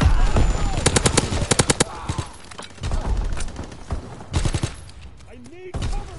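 Call of Duty gunfire: rapid machine-gun bursts and single shots, loud and close, in clustered volleys with gaps, with game voices briefly heard.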